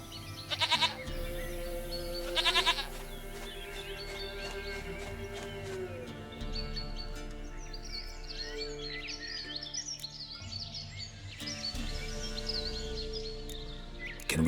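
Goat bleating in The Witcher 3: Wild Hunt, several bleats spread across a long stretch, two louder bursts early and others later, set against steady game music, birdsong and farmyard ambience.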